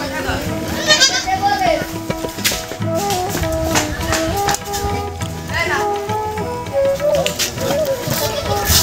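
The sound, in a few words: goats bleating on a farm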